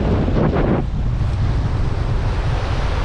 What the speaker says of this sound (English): the wind is really blowing strong now